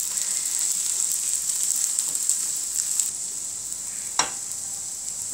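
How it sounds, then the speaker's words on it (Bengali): A bread omelette fries in a pan with a continuous bright sizzle and crackle, close and steady, with a single sharp clink of a utensil near the end and no talking. "অমলেটের নিচ দিকটা হয়ে গেছে, এখন আমি এটা আস্তে করে উল্টিয়ে দেব।"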